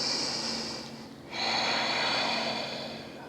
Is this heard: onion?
no